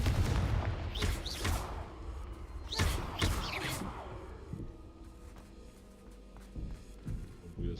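Spell explosions cast in the Hogwarts Legacy video game: a few loud booming blasts with sharp attacks and crackling tails, close and punchy, followed by quieter rumbling game ambience.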